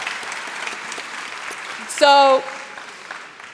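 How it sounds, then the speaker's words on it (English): Audience at a book festival talk applauds with a soft, scattered patter of clapping, mixed with a brief tonal squeal and a short spoken word. "Give him a big round of applause."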